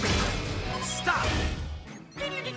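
Cartoon robot arms delivering a loud smashing crash amid busy animated-show sound effects and music, a heavy impact with whooshes, ending in a brief drop before the noise resumes.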